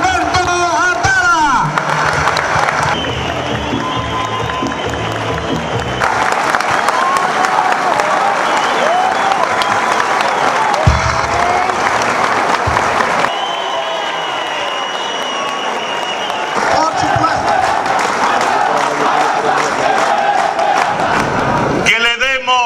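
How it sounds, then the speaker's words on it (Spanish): Crowd applause and cheering for a Distrito Nacional senate candidate at a political campaign event, a loud sustained wash of clapping lasting over twenty seconds, with voices and babble mixed throughout. "aplauso para el próximo senador del Distrito Nacional, Alberto Atala."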